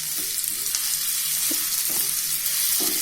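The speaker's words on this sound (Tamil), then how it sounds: "மூடி போடாமல் ஃப்ரை பண்ணணும்" Brinjal slices fry uncovered in a pan, giving a steady close sizzle with occasional soft stirring scrapes and no voices.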